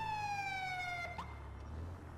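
In GTA 5, a police car siren wails with a steady tone over a low engine rumble, then cuts off partway through, leaving a quiet hum.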